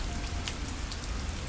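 Steady rain falling and pattering on a surface outdoors, a close, even wash of drops with no voices.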